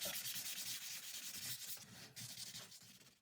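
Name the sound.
hand sanding an end grain wooden cutting board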